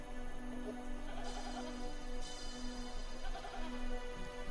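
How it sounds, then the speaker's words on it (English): Herd of goats driven by Bedouin shepherds along the desert cliffs of Qumran near Jerusalem, several bleats rising over a steady background with repeated calls spaced a second or two apart, no voices. "Two Bedouin shepherds are moving a herd of goats along the cliffs of Qumran,"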